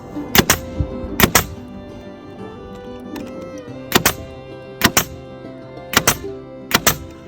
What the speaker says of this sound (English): And then I have 2-inch rod nails here, galvanized. And then I'll just shoot these in at an angle.